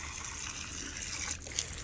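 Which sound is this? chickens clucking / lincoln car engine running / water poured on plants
water poured on plants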